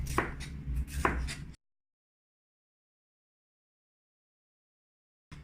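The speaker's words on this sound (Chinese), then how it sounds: "然后呢，就是把它切小块" Seeded vegetables are chopped into small pieces on a cutting board, with quick close knife taps for about a second and a half, then silence before a brief return of chopping at the very end.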